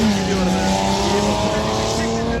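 An off-road race car at a Sapanca off-road race revs hard at full throttle, a loud, sustained engine roar with shifting pitch as it climbs, close by, with voices mixed in.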